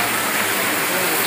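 Steady rain pouring down during an outdoor community work day, a dense, even hiss of falling water that fills the whole moment without a break.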